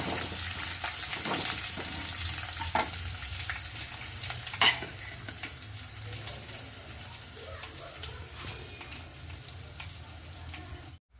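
A tempering for curd poha sizzles softly in a pan, with a steady low fry and occasional sharp clicks and scrapes of a spoon stirring close by. It ends abruptly and no voices are heard.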